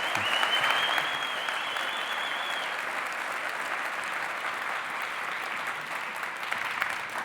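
Sustained audience applause at a Geneva business awards ceremony for five SME finalists, a dense, steady clapping that fills the whole stretch at even strength, with no talking over it.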